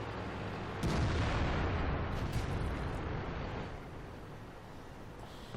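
An IS-4 heavy tank cannon in World of Tanks fires one loud, booming shot that decays into a long rumbling tail, with no talk over it.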